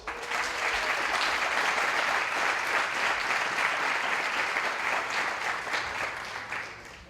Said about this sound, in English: We have another round of applause for our top 4 students in the junior class